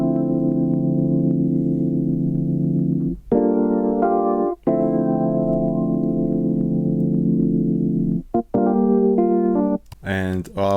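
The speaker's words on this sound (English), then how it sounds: "open up a Rhodes piano patch and I just played some chords on the keyboard" Sustained Rhodes electric piano chords ring out, held for several seconds each with brief gaps between changes, warm and mellow, no voices.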